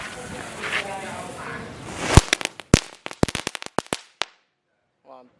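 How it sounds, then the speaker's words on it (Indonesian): A kretekan firecracker (mercon) fizzes as its fuse burns, then goes off in a rapid, irregular run of sharp cracks and pops close by, ending abruptly. A brief voice comes at the end. "Ini ada mercon kretekan, kita nyalakan satu guys,"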